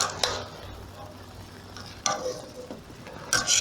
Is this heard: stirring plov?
yes